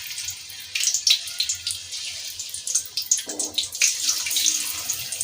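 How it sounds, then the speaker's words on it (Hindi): Marinated fish frying in hot oil on a medium flame, Lahori-style, giving a steady broadband sizzle with crackling pops that grows busier partway through, close and continuous with no talk. "अब हम इसको तलने का प्रोसेस करते हैं। तेल अच्छे से गर्म हो गया है,"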